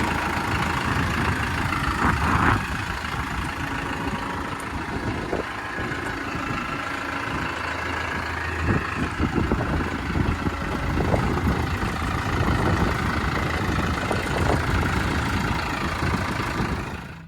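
A BASAK tractor engine idles steadily and loudly nearby in a farm field, a continuous low rumble with some clanking and rattling over it.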